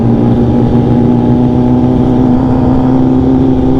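Several sport motorcycles, ZX10R, S1000RR, R1, 1199, CBR-RR and GSXR1000R, rumble loudly and steadily close by at a Charlotte meet-up as riders prepare to set off, with no voices over the engine drone.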